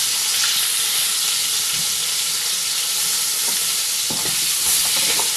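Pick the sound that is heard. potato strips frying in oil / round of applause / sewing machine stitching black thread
potato strips frying in oil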